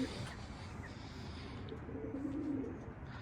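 Pigeons kept in a loft coo softly and steadily, a low murmuring burble close by on a windy afternoon, with no talk.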